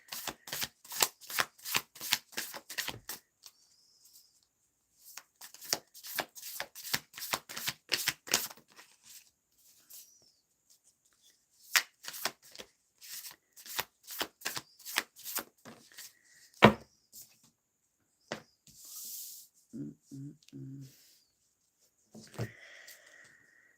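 Tarot cards riffled and shuffled in repeated quick bursts of crisp flapping clicks, close and fairly loud, separated by short pauses, with a light tap and some faint handling sounds near the end.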